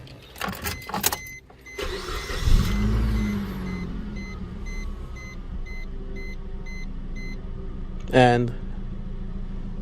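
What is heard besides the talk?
car engine starting and idling after spark plug replacement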